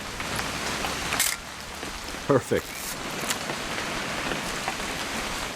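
Rain falls steadily in the video game What Remains of Edith Finch as a soft, even patter. A few brief thumps rise above it and one word is spoken.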